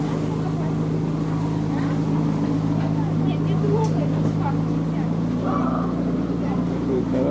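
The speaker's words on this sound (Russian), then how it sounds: "Кораблик." A small motorboat on Lake Baikal hums steadily with a low, constant engine drone throughout, with wind and faint voices around it.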